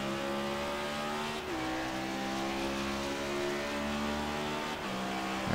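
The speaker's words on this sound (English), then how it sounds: "And then right back on the throttle pretty hard." A NASCAR Next Gen race car in iRacing on the Daytona road course roars hard under throttle, its steady engine drone briefly dipping at a gear change and a second shift before climbing again, close and loud with no talk.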